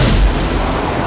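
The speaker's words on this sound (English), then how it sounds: "fire their missiles at the ship" Fighter jets firing missiles at an alien ship in the Independence Day film: a dense, loud roar of blasts and rumble filling the whole second, alone without voices.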